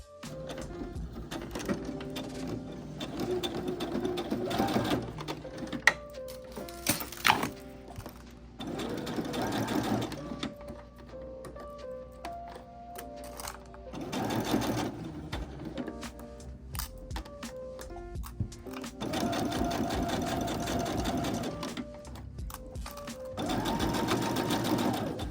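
Sewing machine stitching along a marked line on fabric, in repeated bursts of rapid mechanical whirring separated by short pauses, close and clear.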